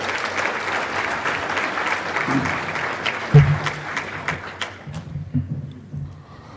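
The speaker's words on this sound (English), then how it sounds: "So we could have a round of applause in it." Audience applause fills the hall at a church annual conference session, a steady round of clapping from many hands that thins and tapers off near the end, with a few louder thumps partway through.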